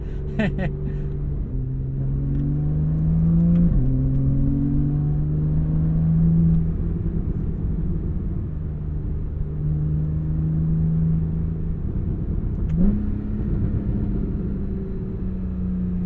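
A 2014 Porsche 911 Carrera S engine pulls hard through the gears, its steady drone rising and dropping at each shift, with a continuous close rumble that may carry some talk.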